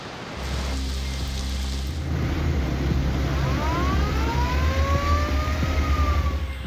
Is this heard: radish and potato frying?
no